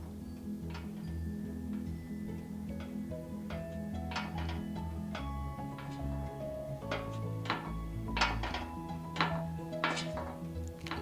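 Screws being unscrewed in the horror game Frequency Missing: a series of sharp metallic clicks and ratcheting ticks, some in quick clusters, over a steady low droning music bed.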